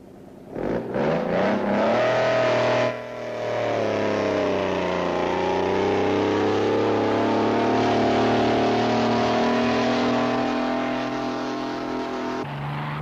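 Heavily modified pulling tractor engine roaring up to a loud sustained drone while towing an increasing weight over 100 yards, with a slowly shifting pitch as it labours, close and without talk.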